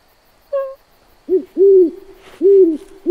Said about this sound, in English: That was the hoot-hooting of the great horned owl.